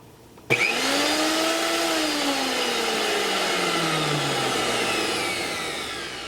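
Repaired mixer grinder switched on after a socket fix: the motor kicks in suddenly and spins up to a loud, steady whine that runs alone for about six seconds, its pitch sagging slightly as it settles.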